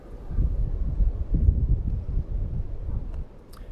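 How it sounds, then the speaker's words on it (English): Strong wind buffets the microphone in continuous low rumbling gusts at a local park, loud and close, easing slightly near the end. "It was getting really windy by this time"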